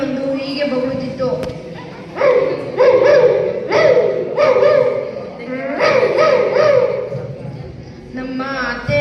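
A voice imitates a barking dog: five or six sharp, loud bark-like bursts in an uneven rhythm, close to the mic, with short vocal sounds between them.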